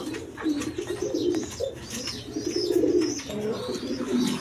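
A male and female beauty pigeon pair cooing in a farm loft, repeated soft rolling coos with light chirps, close and continuous, with other birds faintly around.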